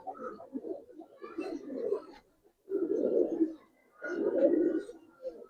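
Giribaz pigeons coo close by in repeated rolling, throaty phrases, three or four distinct bursts separated by short pauses, alone without other sounds.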